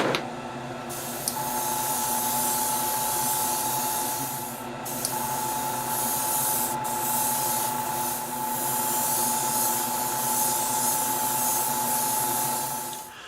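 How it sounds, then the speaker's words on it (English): An airbrush sprays a clear gloss coat of Future acrylic floor polish onto a scale model aircraft, a steady close hiss with a faint motor whine from the compressor, broken by a few brief pauses in the flow. "just the same as you would with any other type of airbrushing, you just use your standard perfect pass"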